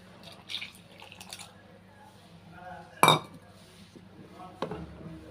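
A metal utensil clinks against a vessel while soaked sago and coconut are mixed: a few soft, scattered clinks and one sharp, bright clang, heard close in a quiet kitchen.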